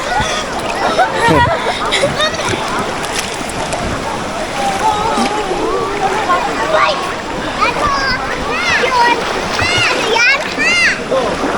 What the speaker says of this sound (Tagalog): Ah, ito ang ilog ng San Lorenzo.